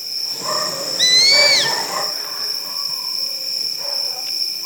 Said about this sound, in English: This is a striped owl.